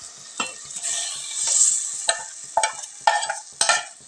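Chicken curry masala with tomato and salt being stirred in a sizzling pan, with a spoon scraping and clinking against the metal in several distinct strokes over a steady frying hiss.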